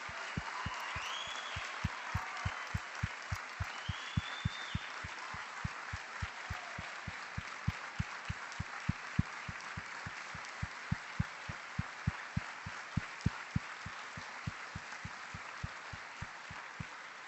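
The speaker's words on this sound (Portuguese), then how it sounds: "Vamos aplaudir a Jesus." A church congregation at an Easter cantata claps for a long stretch, a soft wash of applause under a steady, regular beat of sharp low thumps, likely rhythmic clapping in time, fairly faint and without speech.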